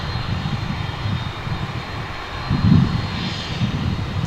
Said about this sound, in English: It's American Flight 34 coming in from Auckland in New Zealand. It's a 787-9 Dreamliner.